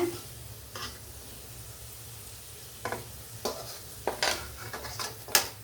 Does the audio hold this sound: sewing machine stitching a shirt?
no